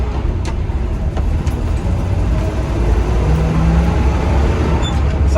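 A Chevrolet square body truck with an SM465 gearbox, back on the road after sitting since 2006, produces a steady low engine and road drone heard from inside, continuous and fairly loud.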